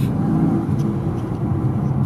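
A car accelerates under app-controlled throttle set to 20 percent, giving a steady, low rumbling engine drone from inside the cabin with no clear rise in pitch.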